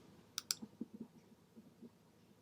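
A computer mouse clicking while navigating a website, with two sharp, close clicks followed by softer faint taps against a quiet room background.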